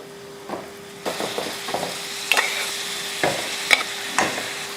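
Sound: mutton frying and being stirred with spices in a pan

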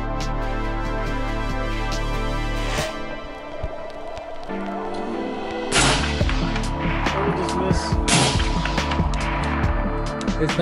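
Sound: gunshot fired at GoPro cameras

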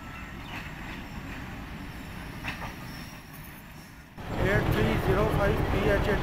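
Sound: 18 Down shuttle train arriving at Mandi Bahauddin station

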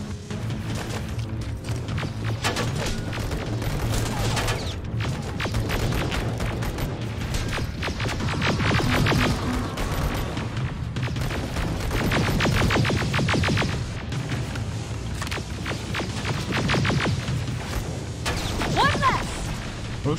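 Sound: gunfire shooting at Terminators in video game Terminator Resistance

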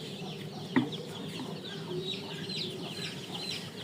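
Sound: Tiger breed chicken clucking

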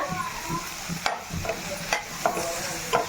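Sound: tempering frying in a pan for dosa chutney

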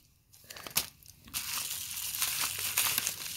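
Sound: opening a cardboard parts package

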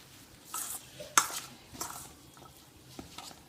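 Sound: mixing ingredients in a bowl

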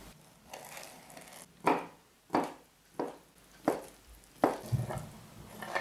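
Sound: knife chopping herring into small cubes

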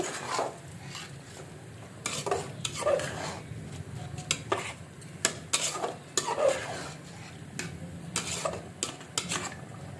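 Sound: stirring rice in a pot for biryani

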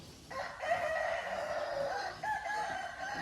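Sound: rooster crowing

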